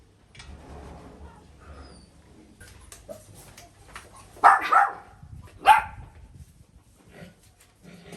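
Dogs barking in a rural yard, two or three short barks fairly close against quiet surroundings with faint background rustle.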